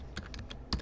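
Someone types a command on a computer keyboard, producing a quick run of light, close key taps that ends with a firmer press.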